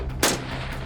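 A single rifle shot fired at a shooting competition, one loud sharp crack close by, over a steady background of noise.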